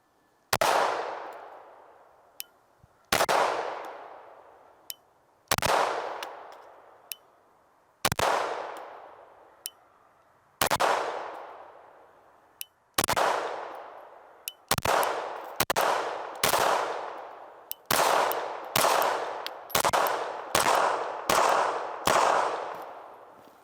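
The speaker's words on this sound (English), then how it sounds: "Let's test out the red dot and make sure it functions on here and the weapon cycles just fine." Pistol shots from an FN 509 CC Edge fitted with a red dot, about fourteen loud sharp reports with ringing tails, spaced slowly at first then quickening into a faster string as the magazine is emptied.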